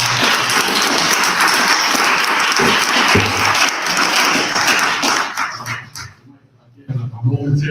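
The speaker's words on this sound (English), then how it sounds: "So please give a round of applause." At a village board meeting in Dolton, a room bursts into a loud round of applause with voices mixed in. The clapping fades out near the end as talk resumes.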